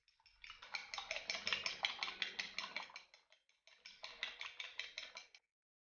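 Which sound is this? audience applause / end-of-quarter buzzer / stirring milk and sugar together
stirring milk and sugar together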